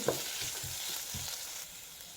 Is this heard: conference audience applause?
no